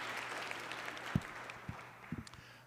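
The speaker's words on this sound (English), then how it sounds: "We'll get to clap." Small audience at a church vestry meeting clapping briefly. The applause is faint, distant and scattered, with a few sharper claps over a quiet room.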